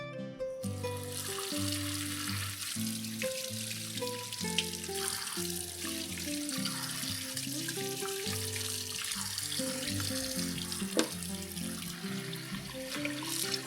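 Pork ribs rinsed under a steady stream of running water, a continuous hiss of water running throughout while music plays over it.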